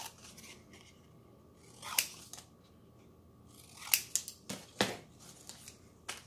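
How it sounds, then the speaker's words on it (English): Scissors roughly cutting paper for a junk journal page, a few crisp snips spaced apart with a brief cluster of cuts near the end, close and clear with no talking. "I can just kind of like roughly cut it."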